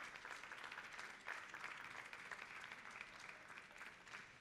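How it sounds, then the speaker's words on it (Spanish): Steady, dense applause from an audience at a local fiesta, sustained and fairly loud across the whole stretch with no pauses, filling the space with a continuous crackle of many hands. "Un aplauso para él, por favor."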